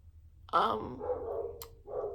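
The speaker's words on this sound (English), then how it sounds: "that's another reason why he's barking." A dog gives a single bark followed by a drawn-out growling whine, then a shorter bark, fairly faint in a quiet room.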